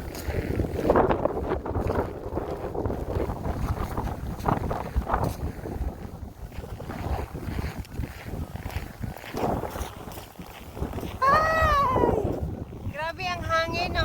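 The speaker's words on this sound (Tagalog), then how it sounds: "Grabe ang hangin, oh." Strong blizzard wind at 3°F sweeps through a cemetery on Christmas, buffeting the microphone in a steady, loud rumbling roar throughout, with a brief high whistling whine near the end.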